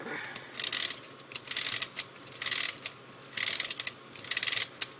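Geared wind-up mechanism of a DX GoZyuJin toy robot cranking, bursts of rapid ratcheting clicks repeating in short rhythmic spurts with brief pauses between, close and fairly quiet.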